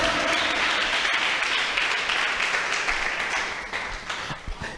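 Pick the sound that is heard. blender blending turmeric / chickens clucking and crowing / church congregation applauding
church congregation applauding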